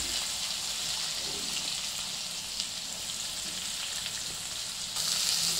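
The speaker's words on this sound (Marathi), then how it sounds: "हे आता काय हे तळतळलं ना आई, ही मिरची थोडी होऊ दे" Green chilies frying in hot oil in a home kitchen while making matar poha, a steady close sizzle with faint stirring throughout, swelling briefly louder near the end as onion goes in; no talking.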